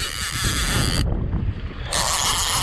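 A fishing reel's drag gives off a loud, continuous whirring rattle as a hooked fish runs. It briefly drops out and then resumes, with wind buffeting the microphone throughout.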